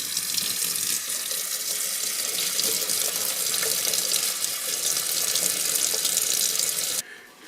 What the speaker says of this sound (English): Use some warm hot water.